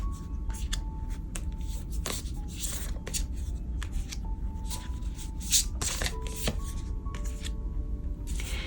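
Tarot cards are shuffled close by in a soft, continuous riffle and flutter of card stock, a few sharper taps standing out, with no voice over them.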